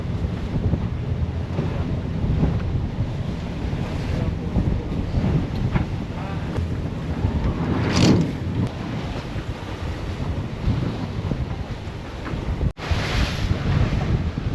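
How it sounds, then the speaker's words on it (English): Strong, steady wind roars across the microphone aboard a sailboat crossing open sea from St. Croix to St. Thomas in heavy weather, a continuous loud rush with waves beneath and no speech. "It is windy."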